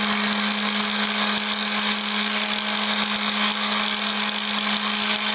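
An orbital sander works over a balsa wood CO2 dragster body, giving a steady, loud, unbroken whirring hum with a fixed tone throughout and no pauses.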